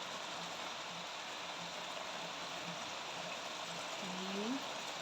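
Steady rain falls outdoors during home cooking of adobong sitaw, a soft continuous hiss of drops through the whole stretch, with a brief faint tonal sound near the end and no talking.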